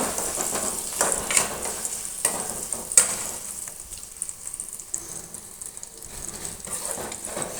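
Spices with sesame seeds and turmeric fry in hot oil for lemon rice, a steady bright sizzle broken by a few sharper stirring scrapes, fairly close, with no voices.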